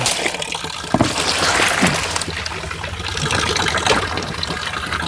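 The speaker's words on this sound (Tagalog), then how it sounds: "Lagyan mo tubig. Ito, ibabad ko muna." Water is poured into a basin to soak clothes, a continuous splashing, gushing stream with a few knocks and bumps, close and fairly loud throughout.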